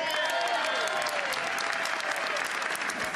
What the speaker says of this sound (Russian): Подписание указа в 2010-м аплодисментами встретили.